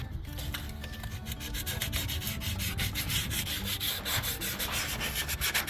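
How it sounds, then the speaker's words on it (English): Small piece of sandpaper rubbed by hand on a part of a 1985 Monte Carlo SS street racer, a steady close scratchy back-and-forth rasp with quick rhythmic strokes and no talking. "So then I go with right here, a little piece of sandpaper."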